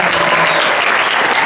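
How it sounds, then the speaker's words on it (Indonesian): Loud, dense audience applause at a school religious gathering, a crowd clapping steadily throughout the short stretch. "Kita beri tepuk tangan terlebih dahulu."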